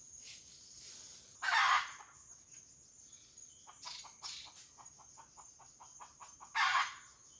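Wild jungle fowl in a forest in Laos crow twice, several seconds apart, at moderate distance. Softer clucking calls repeat between the crows over a faint, steady insect hum.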